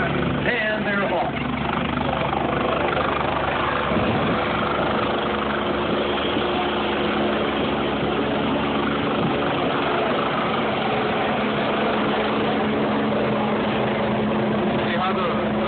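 A helicopter's engine and main rotor run at takeoff with a steady, loud drone and throbbing rotor beat, while someone talks over it throughout.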